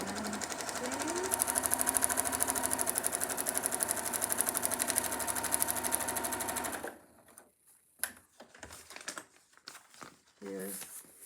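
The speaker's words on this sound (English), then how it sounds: "when I sew my seam, it will fit all the way to the corner" A sewing machine stitches a seam on a paper-pieced quilt block, running steadily and close for about seven seconds before stopping. A few handling noises and some brief talk follow.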